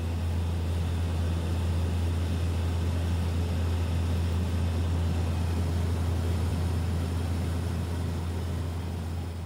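A propeller aircraft drones steadily on a long flight across Antarctica, its deep, constant engine hum loud and unbroken inside the cabin, with no voices.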